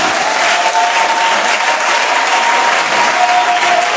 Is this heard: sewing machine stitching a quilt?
no